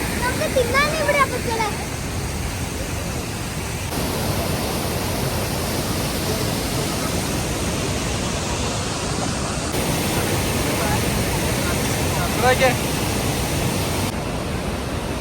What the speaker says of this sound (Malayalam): കാണാ വെള്ളച്ചാട്ടം.